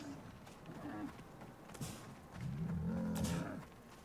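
A cow-like alien character in the Star Wars Outlaws video game moos in low, drawn-out groans, one brief call near the middle and a longer, louder one toward the end, under faint ambient game noise.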